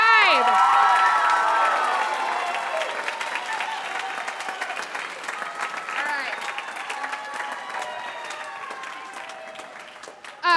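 An audience at a spring school concert applauds and cheers for a graduating class. Dense clapping and scattered shouts swell loudly at first, then gradually thin out over about ten seconds.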